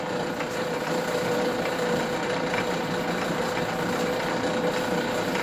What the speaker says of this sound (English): And you'll see how much slower it turns. This would be the slowest speed on the lathe.